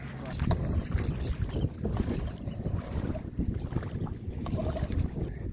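A small Yamaha outboard boat motor drones steadily throughout, with wind buffeting and water noise around it, loud and close.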